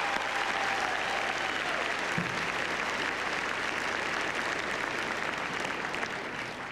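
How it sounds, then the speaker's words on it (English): Sustained applause from a banquet audience at the 1999 NASCAR Winston Cup Series awards, an even, dense wash of clapping in a large hall that holds steady throughout. "Ladies and gentlemen, a round of applause for Todd, Mr. Ford, and Robert"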